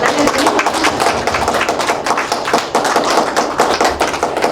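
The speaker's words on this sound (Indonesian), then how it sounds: "tepuk tangan loh" A room of teachers at a school activity session applauds with loud, dense, continuous clapping, close and sustained without a break for several seconds.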